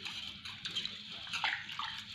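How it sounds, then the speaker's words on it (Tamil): Soaked chana dal kneaded and rinsed by hand in a bowl of water, giving soft, irregular sloshes and splashes, fairly faint and close. "நல்லா பிசைஞ்சு கழுவிக்கலாங்க."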